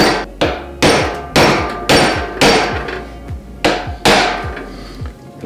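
Hammer strikes driving a pin into a flex coupling, seven sharp, evenly spaced blows at moderate force, each ringing briefly before the next, close up with no talking.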